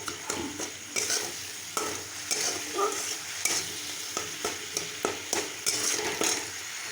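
Spice masala with turmeric, cumin, sugar and salt being sautéed in a pan, a steady close sizzle with a quick run of spatula scrapes and taps against the metal, no talking.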